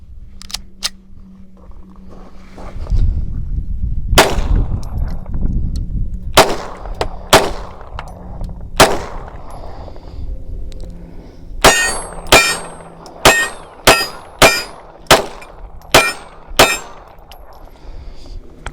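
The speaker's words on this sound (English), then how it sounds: "So let's take a couple of shots with it." Carry pistol being fired, a string of sharp loud cracks, a few spaced shots and then a faster volley of about eight, each with a short metallic ring, heard up close with no talk.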